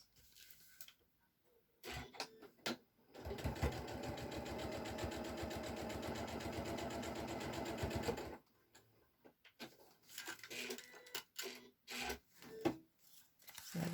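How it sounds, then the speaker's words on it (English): Sewing machine stitching straight across paper-pieced fabric: a steady rapid mechanical whirr of about five seconds between short bursts of handling and rustling, with no talking. "take it to the sewing machine and sew straight across."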